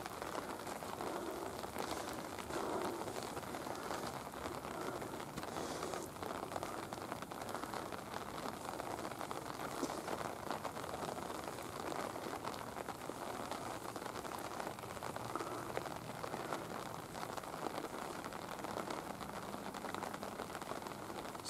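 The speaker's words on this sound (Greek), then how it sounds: "Συνεχίζει να βρέχει." Rain falls steadily on a February day with snow about, a constant dense patter on surfaces throughout without letup.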